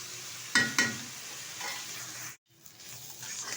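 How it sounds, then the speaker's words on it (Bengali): Water lily flowers fry in a pan with a steady, soft sizzle. A couple of sharp stirring scrapes sound near the start, and there is a brief dropout before the frying hiss resumes. "শাপলা ফুলটা কিন্তু খুব সুন্দরভাবে ভাজা হয়ে গেছে"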